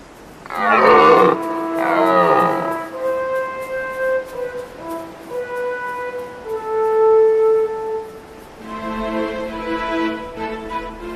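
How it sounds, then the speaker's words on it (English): Deep, drawn-out bellowing roars from red deer stags in autumn rut carry across open mountain slopes, several long calls in succession, some close and loud, others more distant and echoing. "All day long, the rotting calls of stags echoes from the slopes."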